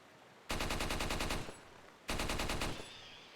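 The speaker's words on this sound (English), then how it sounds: "So let's just see how loud the gunfire is." Video game gunfire from a Chicago typewriter submachine gun in a zombie game: two loud, rapid sustained bursts of close automatic fire, each about a second long, separated by a short pause.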